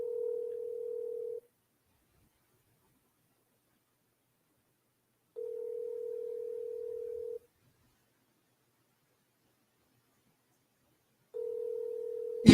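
Ringback tone on an outgoing speakerphone call, three long steady tonal rings separated by several seconds of silence, clear and evenly loud, no voices.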